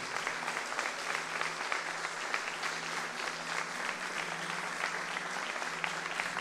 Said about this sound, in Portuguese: Aplauda o Senhor e glorifique o seu nome.